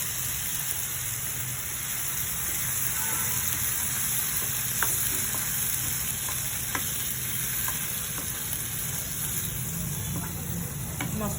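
Spice masala with tomato paste frying in oil for a fish cumin curry, a steady dense sizzle with occasional crackles and stirring scrapes, close and continuous.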